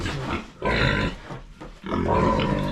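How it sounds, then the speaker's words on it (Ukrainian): Piglet grunts come in rough bursts with short pauses between them, loud and close. "Сильна свинка."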